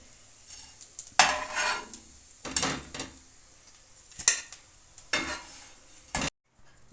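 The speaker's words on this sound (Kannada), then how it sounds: "ಸ್ವಲ್ಪ ಒಗ್ಗರಣೆಯಲ್ಲಿ ಫ್ರೈ ಮಾಡಿದ್ದೀನಿ" Food sizzles in hot tempering oil in a pan while a spoon scrapes and stirs it in short, repeated bursts, ending in a brief silence.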